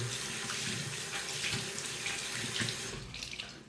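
A tap runs steadily into a sink while a fabric face mask is washed by hand, a close continuous rush of water with slight splashing changes as it is handled.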